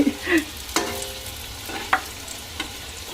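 Pitha cakes frying in a pan, heard as a soft, steady sizzle broken by a few sharp scraping clicks of a utensil against the pan, close up and with no talking.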